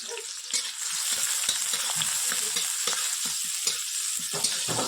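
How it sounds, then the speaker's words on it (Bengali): Chopped onions, garlic paste and green chillies fry in a pan with a loud, continuous crackling sizzle, close up, with occasional scrapes of stirring and no talking. "হালকা করে একটু ভাজা ভাজা হবে।"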